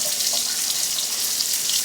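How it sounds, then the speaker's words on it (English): Eggs are lifted out of a pot of water, producing a loud, steady wash of splashing and dripping water that runs continuously without pause. "So I get the eggs out of the water,"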